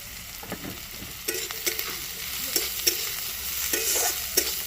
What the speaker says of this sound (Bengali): দেখো প্রত্যেকটা সবজি কি সুন্দর ভাজা হয়ে গেছে